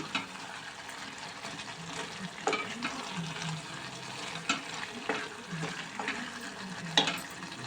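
Radish pieces frying in a pan, a soft continuous sizzle under intermittent scrapes and clicks of a spatula stirring at close range.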